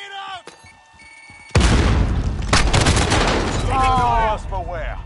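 In Call of Duty Warzone, a grenade explosion bursts loudly and close with a rumbling, crackling tail, surrounded by game sounds and a voice calling out.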